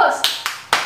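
Children clap hands in a quick sequence of three or four sharp claps, close and fairly loud, with a voice at the start.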